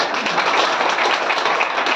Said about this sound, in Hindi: एक बार जोरदार तालियां बजा सकते हैं